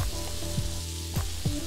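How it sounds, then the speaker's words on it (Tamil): A finely chopped medium onion sizzles steadily in a hot pan while being sautéed for a Punjabi rajma (kidney bean) curry, with a few soft stirring scrapes breaking the continuous crackle. "வெங்காயத்தை வதக்கிக்கோங்க"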